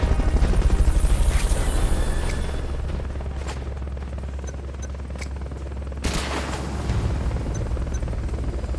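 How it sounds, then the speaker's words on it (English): Helicopter rotor noise from Metal Gear Solid Peace Walker, a steady loud low thrum throughout, with sharp gunfire-like bursts around the middle and a loud impact near six seconds. "Fulton recovery subject confirmed onboard helicopter."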